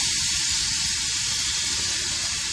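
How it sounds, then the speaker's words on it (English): Vada cooking inside a pressure cooker gives a steady, loud sizzling hiss with fine crackle, continuous throughout and heard without talk. "I'm hearing a crackling noise."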